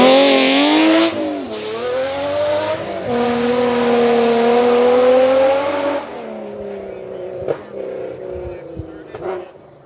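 A Lexus rally car is driven by Rich O'Healy, with Michelle Miller co-driving, on Stage 4 Andy's Run of the 2025 Oregon Trail Rally. Its engine revs loudly as it speeds close past, then fades into distance, with a few sharp clunks after.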